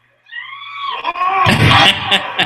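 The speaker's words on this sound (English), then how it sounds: "Did you hear that scream?" Wrestler's scream during a WWE match in the ring, a loud rising wail that breaks into crowd noise and impact sounds.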